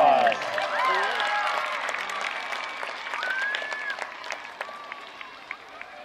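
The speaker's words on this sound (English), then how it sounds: "Give yourself a huge round of applause." A crowd at an elementary school event claps steadily, the applause loud at first and thinning to scattered claps, with voices and cheers mixed in.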